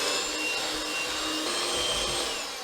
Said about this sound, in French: Et on va fouetter pour faire blanchir le mélange